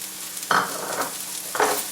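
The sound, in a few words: sautéing onion and chopped moringa leaves in a pan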